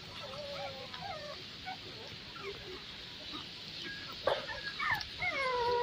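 Shih Tzu puppies around twenty days old give thin, high whimpers and little yips in scattered bursts, growing busier toward the end, while a person talks nearby.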